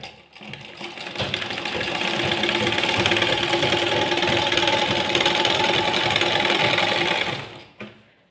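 A sewing machine stitching six stacked layers of old saree cloth whirs in a fast, steady run that starts up, holds for several seconds and stops abruptly, close and fairly loud with no talk.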